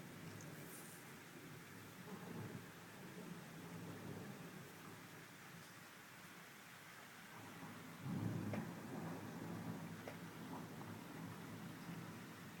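Thunderstorm with steady rain falling and low rolling thunder rumbling at a distance, one deeper roll swelling near the end; no voices.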